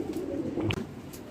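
Pigeons coo softly and repeatedly close to a cage by a mesh-screened door, low murmuring calls running steadily through the moment with a brief brighter note midway.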